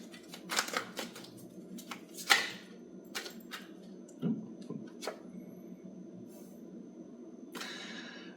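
Tarot cards being shuffled by hand, with a series of soft papery riffles, slaps and flicks at irregular intervals, fairly close and quiet, over a low steady room hum.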